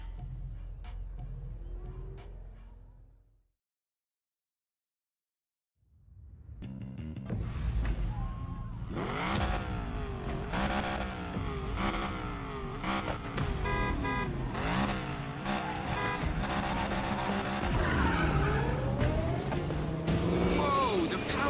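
A car in Need for Speed Payback revs and accelerates hard after a short silence, its engine roaring loudly with rising and falling pitch sweeps and tire squeals, while voices speak over the action.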